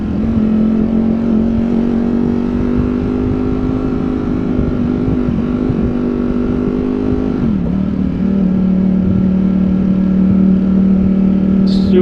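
A Ducati Streetfighter V4S motorcycle rumbles loud and close at a steady low drone while cruising in second gear through New York City traffic, the engine note dipping briefly partway through.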